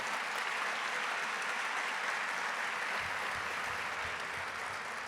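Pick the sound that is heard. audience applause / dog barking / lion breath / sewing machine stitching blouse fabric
audience applause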